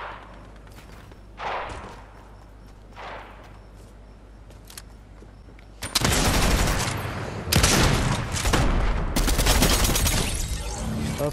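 Dense video-game gunfire bursts out loud after about six seconds and keeps going as rapid, overlapping shots, with a few scattered thumps in the quieter stretch before it.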